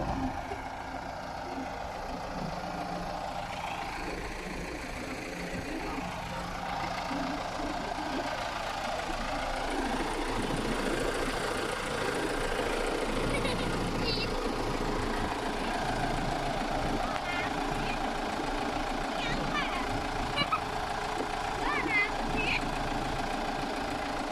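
A tractor engine idles at a steady, low rumble throughout while pulling a vehicle stuck in mud at a reservoir in Maha Sarakham, Thailand, with faint voices in the background.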